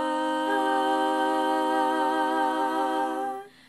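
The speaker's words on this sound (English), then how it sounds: "C minor sounds like this." Several unaccompanied voices hold a C minor chord in close harmony, one steady sustained tone that swells slightly and then tapers off, with nobody speaking.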